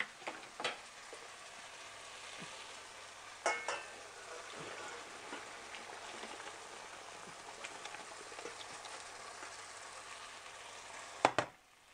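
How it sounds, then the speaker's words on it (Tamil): A steady, soft hiss of pasta cooking water pouring and splattering through a colander, with a few sharper knocks and clanks along the way. "ஸோ அடியில் ஒரு பாத்திரம் வச்சு அந்த கொலாண்டரை மேலே வச்சுட்டு நான் அதை அப்படியே வடிகட்ட போகிறேன்."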